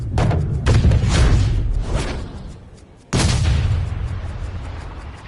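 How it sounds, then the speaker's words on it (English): Golf club striking the ball in a video game, two heavy booming impacts like a cannon, each followed by a fading tail, loud and close over faint background sound. "did you hear the sound of that coming off the club face?"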